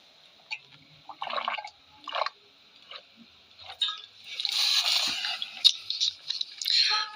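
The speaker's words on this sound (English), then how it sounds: "So I gotta get some water." Water drawn for a drink, heard up close as short splashy bursts and then a longer, steadier run of pouring and trickling that fades, fairly quiet, with no talking.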